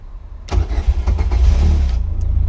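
A Caterham Seven 270S engine cranks and catches about half a second in, then settles into a steady, loud, low idle rumble.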